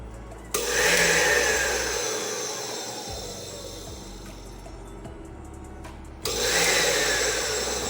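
An Oster blender motor whirs at full speed in a loud, steady electric whine, cuts to a quieter rattling run midway, then surges back to full power near the end.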